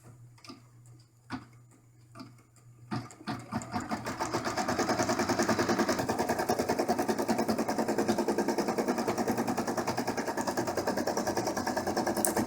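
A machine embroidery hoop stitching around the edge of a camper bag: a few isolated ticks, then a steady rapid mechanical chatter that runs continuously, close and even.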